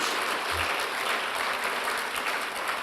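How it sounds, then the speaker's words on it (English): An awards-ceremony audience claps for the finalists at the Mindful Money Awards, a steady, full round of applause from a large crowd, alone. "Please, a round of applause for all of our finalists."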